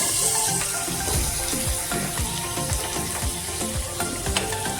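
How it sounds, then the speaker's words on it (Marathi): Finely chopped onion, with a little oil, frying in a pan for a Maharashtrian stuffed bitter gourd masala, a steady close sizzle with occasional scraping strokes of a spoon. "थोडंसं तेल टाकायचं जास्त नाही मसाला भाजण्यापुरतं थोडंसं तेल टाका नंतर आपला कांदा बारीक चिरलेला कांदा टाका"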